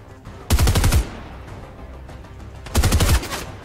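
Two short automatic bursts of combat SMG fire in Fortnite Chapter 2 Season 3, each a rapid rattle of about half a second, loud and close, separated by a quiet stretch of game ambience.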